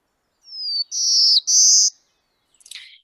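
A black-throated blue warbler sings in a northern hardwood forest, giving three buzzy, rising whistled notes in a row, followed by a brief fainter chip, clear against silence.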